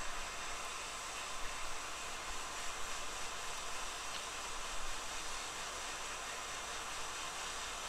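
A hot air rework tool, moved back and forth over a PS4 board to melt solder in the ground holes of an HDMI port, blows a soft, steady hiss throughout.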